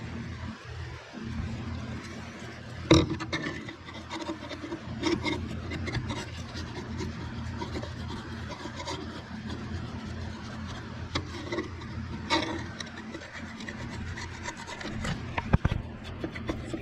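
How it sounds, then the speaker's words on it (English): A putty knife scrapes and works loose a part stuck by sealer on the floor of a 1969 Shelby GT500 convertible, a long stretch of soft rasping and rubbing with a few sharper knocks. "I'm going to get a putty knife and slowly work that loose."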